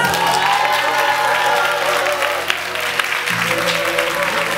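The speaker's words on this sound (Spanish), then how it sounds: "En este momento tendría que haber una ovación enorme." A theatre audience at a burlesque show in a Barcelona cabaret gives a loud ovation, dense clapping and some cheering filling the room under a host's voice.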